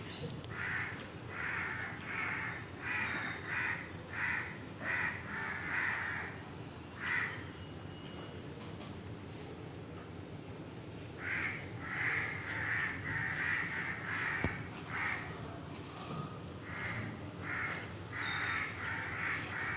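A flock of crows caws repeatedly in harsh bursts, with a brief lull midway before the calling resumes, over steady outdoor background noise.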